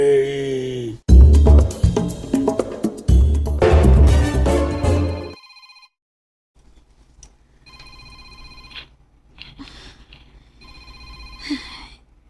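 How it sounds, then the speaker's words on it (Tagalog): A telephone rings in a Filipino domestic comedy scene, first loud under music and voices, then fainter repeated rings with gaps as a person speaks briefly around them. "Nanawag na sad. Tubagon ko na lang."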